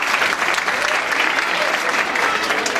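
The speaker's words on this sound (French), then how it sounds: "Des applaudissements de tonnerre pour ces dames-là." Mothers accompanying their children in the audience at a personalised-medicine conference session receive loud, sustained applause from the crowd, an even wall of clapping lasting the whole few seconds.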